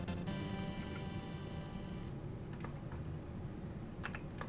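Rapid keyboard typing clatters steadily up close, a dense run of key clicks with no voices.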